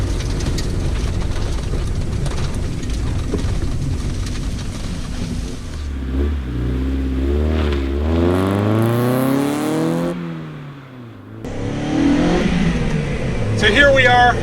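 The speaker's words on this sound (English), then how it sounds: "here we are in our stock NA chassis Mazda Miata on some general Ultimaxes" A stock NA-chassis Mazda Miata on General Ultimax tires accelerates, its engine note climbing steadily in pitch through a rev before easing off, then picking up again. The engine stays close and fairly loud, with people talking over it.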